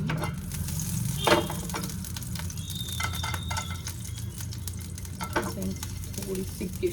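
Ghee sizzles steadily in a pan while sooji halwa is being made, a continuous close frying crackle with occasional stirring scrapes and no talk.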